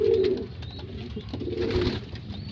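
A Taiwan cross foundation pigeon coos in low, soft, repeated throaty notes, close by, with faint background chirps.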